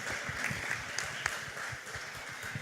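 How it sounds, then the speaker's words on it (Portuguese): An audience at a book-fair author talk gives a round of applause, a steady patter of many hands clapping, fairly soft and distant, lasting the whole few seconds. "Eu quero dar uma salva de palmas para a Helenice"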